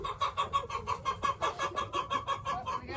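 Hens and roosters cluck steadily in a farmyard during a rooster slaughter, a dense, continuous chorus of overlapping calls pulsing several times a second, close and fairly loud with no talking.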